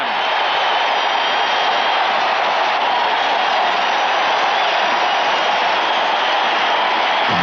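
Stadium crowd noise from baseball fans at Anaheim during Game 4 of the 1979 ALCS, Orioles at Angels, a dense steady roar that holds loud and unbroken throughout with no clear individual voices.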